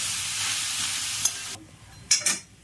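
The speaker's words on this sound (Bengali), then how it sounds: "নুনটা দিয়ে এটাকে ভালো করে কষাতে হবে।" Beetroot, carrot and potato being stirred and sautéed with salt in a pan: a strong, steady hissing sizzle that cuts off abruptly, followed by a few short, sharp scraping stirs.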